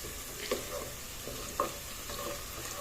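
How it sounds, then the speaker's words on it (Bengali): Meat is stirred in a hot frying pan, giving a faint, steady sizzle with a couple of soft scraping taps from the spoon; no talking. "মাংস এদিকে কষাইতে দিয়ে"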